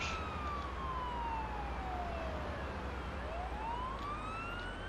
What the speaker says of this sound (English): The sharp, high-pitched wail that an ambulance, or really anything, switches to as they approach.